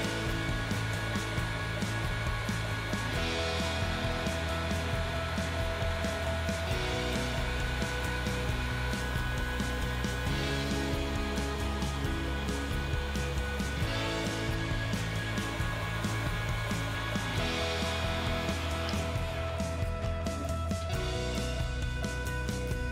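Heat gun blowing hot air onto tint film on a headlamp, a steady loud fan roar with a constant tonal hum running throughout, its pitch shifting slightly every few seconds.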